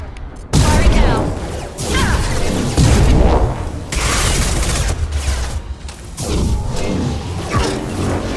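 Weapon fire in a video game, loud bursts of gunfire and booms that come in several separate volleys with brief gaps between them.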